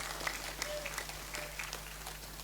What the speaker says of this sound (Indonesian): Kenapa tidak tepuk tangan,